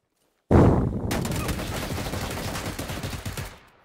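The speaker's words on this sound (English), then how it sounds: "Just been killed by some of an SKS because I was getting shot from 800 places." Gunfire in the video game PUBG erupts suddenly as a loud, dense burst of rapid shots, sustained for about three seconds before fading.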